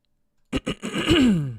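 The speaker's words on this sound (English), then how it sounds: "I keep clearing my throat here" A man clears his throat close to the microphone after a moment of silence: two short rough bursts, then a longer grating rasp that trails off.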